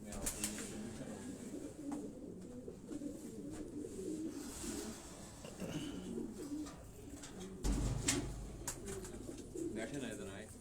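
Racing pigeons in a loft in Quetta coo in low, soft, repeated calls close by, running steadily through the stretch with a louder burst near the end and faint background murmur.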